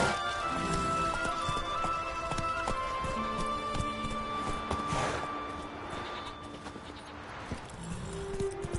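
Horse hooves clip-clopping steadily in The Witcher 3 video game, a brisk even rhythm of close hoof strikes over a continuous game soundscape, no voices.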